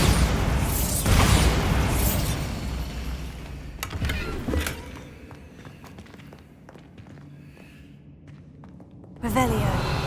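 A Bombarda blast spell goes off in Hogwarts Legacy, a sharp burst with crumbling debris near the start, then softer impacts, footsteps and scattered clatter, with a closing burst; speech is faintly present.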